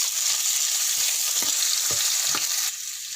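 Sliced onions fry in a pan for paneer butter masala, giving a loud, continuous hissing sizzle with a few brief stirring knocks, which eases slightly near the end; no talking.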